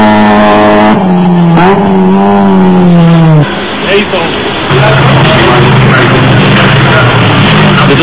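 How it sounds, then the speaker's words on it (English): A Subaru Impreza rally car at the 2001 Rally of South Africa roars past, its exhaust note rising and falling through revs with a brief lull before surging again, loud and close, with a voice talking over it. "The distinctive exhaust note of the Motor 1 Subaru Impreza of Sukhmunt Singh and Tom Mariuki"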